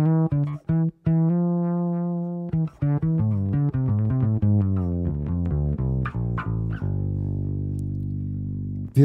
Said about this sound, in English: the bottom three strings are a fretless bass